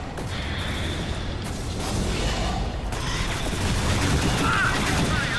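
Gunfire from the video game Alien Swarm, a dense, continuous rattle of shots and mechanical clatter layered under game noise for several seconds.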